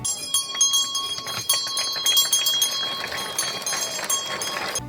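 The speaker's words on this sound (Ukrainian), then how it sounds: "пролунав перший дзвоник" A school bell rings continuously, bright and sustained, at a September 1 first-day ceremony at a school in Brody, Ukraine, with crowd noise beneath it.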